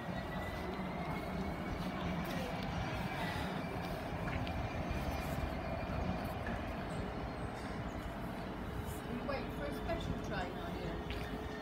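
Trains at Ipswich railway station fill the air with a continuous low rumble and faint high metallic squeals and whines, heard from a platform at moderate distance.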